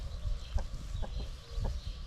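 Several chickens cluck in short, repeated bursts nearby, with a low rumble of background noise underneath.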